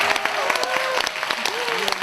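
Applause from the audience at a Korean mentoring talk concert, a dense, steady clapping wash under a voice that speaks over it throughout.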